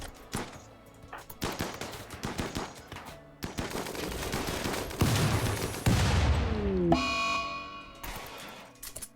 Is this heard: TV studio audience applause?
no